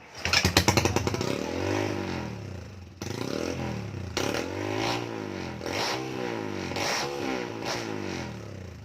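A repaired motorcycle engine sputters to life after a run of rapid clattering start attempts, then settles into a loud, close idle that swells with repeated revving surges.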